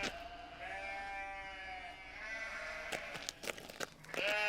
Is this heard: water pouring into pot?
no